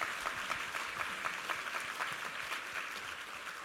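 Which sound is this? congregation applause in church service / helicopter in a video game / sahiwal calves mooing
congregation applause in church service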